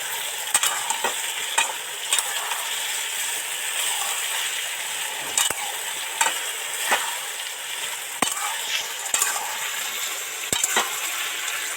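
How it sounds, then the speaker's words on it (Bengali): Mixed vegetables with finely chopped tomato for shukto sizzle steadily in a pan, with repeated sharp spatula clicks and scrapes as they are stirred, close and continuous throughout. "দিয়ে নেড়ে চেড়ে মিশিয়ে দেব।"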